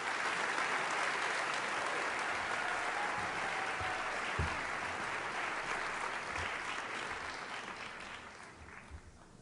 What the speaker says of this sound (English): Final round of applause for our honors students.